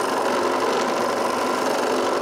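Power tool drilling a hole in a wood block for a drum sander speed controller, a steady loud whirring buzz throughout with no pauses.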